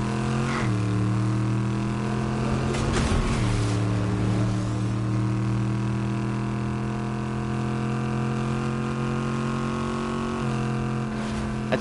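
A loud car engine drones continuously in Fortnite, a steady harmonic hum that shifts pitch as it revs up and down, with a brief rattling burst near the start and no talk over it.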